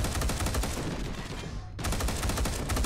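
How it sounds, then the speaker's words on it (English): Rapid gunfire from a video game gun firing in double-shot bursts, with loud repeated cracks that fill the whole span, dip briefly near the middle, then resume with full intensity. "This thing fires in double shot bursts, but the second shot tends to go high, it seems, because of the recoil."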